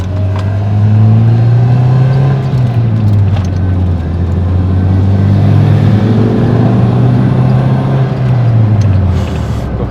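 Mazda Astina car with a stock exhaust accelerating hard in first gear with the air conditioning off; steady loud engine drone rising and falling in pitch for ten seconds, no talking.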